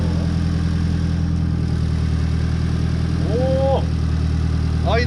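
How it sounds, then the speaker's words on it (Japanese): A Sileighty car with an S15 front end, once flood-damaged, idles steadily after starting, a loud, even low rumble close by with a brief voice murmuring over it near the end. "アイドリングもちゃんとします。"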